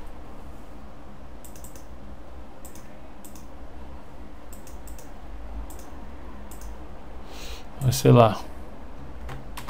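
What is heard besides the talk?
typing a file name on a computer keyboard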